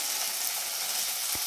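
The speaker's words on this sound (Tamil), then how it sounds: "எண்ணெய் சூடாயிடுச்சு. தாளிக்க சோம்பு சேர்த்துக்கிறேன்." Fennel seeds sizzle in hot sesame oil in a clay pot, giving a brief, steady, close hiss of frying.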